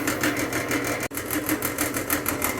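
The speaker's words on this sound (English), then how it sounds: "Pilot hole and then full-size hole. You use cut-in oil and you take your time, no problem." Drill boring a pilot hole and then a full-size hole with cutting oil while a custom tool is made for a 1947 IH Farmall M tractor; a steady, loud mechanical whir runs throughout with one very brief dropout midway.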